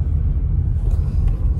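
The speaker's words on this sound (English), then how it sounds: "Oh, it's a car coming." A car passes outside on an evening walk, a steady low rumble close by and fairly loud throughout, with no voices over it.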